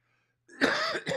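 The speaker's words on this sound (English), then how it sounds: "A little coughing." A single short cough from a man near the microphone, sharp and close, following a moment of quiet.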